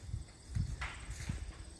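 Donkeys shuffling and stepping near a fence, a few soft, irregular hoof thuds on the ground, close by and faint.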